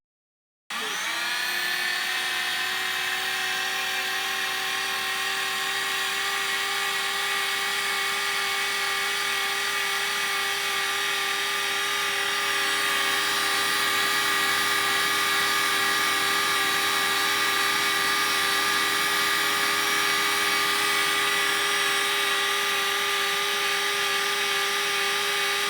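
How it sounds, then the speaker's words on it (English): A steady, high-pitched mechanical whine starts abruptly and holds at a constant level as an Exon C3 plastic welding extruder runs continuously. "the Exon C3 is less noisy than other extruders"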